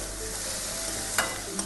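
Chicken with turmeric, chili and cumin powders is stirred in a frying pan, a soft sizzle underneath with a couple of light utensil scrapes near the end, faint and close.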